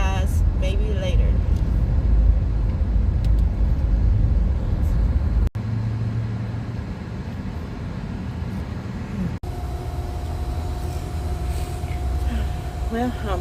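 A parked school bus idles with its engine running, giving a loud, steady broadband rumble that fills the whole stretch with no breaks.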